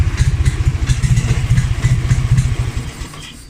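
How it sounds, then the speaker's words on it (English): Ural motorcycle engine idling right after a kick start, a loud close rapid thumping putter with an even rhythm that fades and cuts out near the end. "usually it'll start a couple kicks straight into idle"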